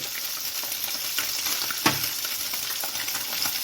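Redfish fillet frying in a pan, a steady close sizzle and crackle running throughout with one brief clink of a utensil near the middle.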